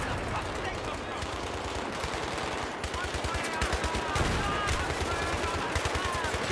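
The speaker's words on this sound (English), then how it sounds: "Keep shooting!" Dense, continuous gunfire in Battlefield 3 during the Operation Swordbreaker mission, with rapid machine-gun bursts and overlapping shots that stay loud and close throughout, while soldiers shout under the fire.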